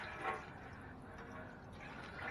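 Coolant being poured into the radiator reservoir of a 2004 Chevy Venture during a radiator swap, a soft, steady liquid fill with faint splashing that swells near the start and end.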